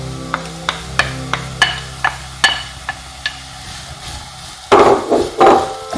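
Onions dropped into hot oil in a pan, a sharp burst of sizzling and crackling that swells near the end after a run of light knocking and clinking from a utensil against the pan.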